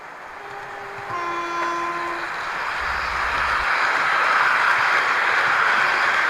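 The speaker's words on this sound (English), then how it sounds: "The approaching train is not scheduled to stop at this station." Train running through a station platform without stopping, a broad rushing roar that swells as it nears, with a couple of brief horn tones early on and a low thump midway.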